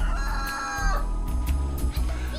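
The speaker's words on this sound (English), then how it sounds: "No, this is a cockerel." A cockerel crows loudly and close by in one long, strained call. Clucks and other farmyard noise run underneath it.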